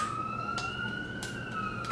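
A siren wails in a steady, slightly wavering tone that stays at an even level, faint and distant behind room noise, with a few soft clicks over it.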